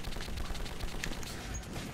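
Rapid bursts of gunfire from the video game Metro 2033 rattle in quick succession, moderately quiet, alongside faint background game sounds.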